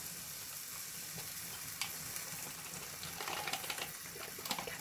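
Double cream poured into a hot pan for a cheesy ham and broccoli pasta sauce, giving a steady close sizzle and frying hiss with soft liquid splashing and scattered crackles, brighter toward the end, no talking.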